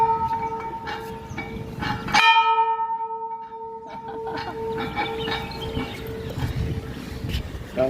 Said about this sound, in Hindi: उनको घंटी बजा दो